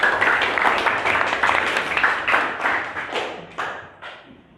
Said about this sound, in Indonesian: Masih tepuk tangan buat teman kalian Restu.